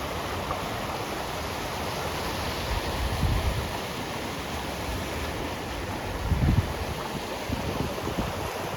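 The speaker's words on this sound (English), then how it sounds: "it's very heavily rushing South Fork of the Palouse River here" The high, fast South Fork of the Palouse River rushes close to overflowing, giving a steady, loud roar of water with some wind buffeting on the microphone and slight surges in the flow.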